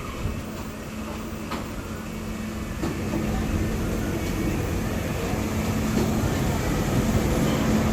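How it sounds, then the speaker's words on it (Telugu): A DEMU train pulls away from a station near Nagar on the Kacheguda to Mahabubnagar line, its low rolling rumble and hum building gradually and steadily, with a faint voice at times. "ఇప్పుడే మన ట్రైన్ బయలుదేరింది"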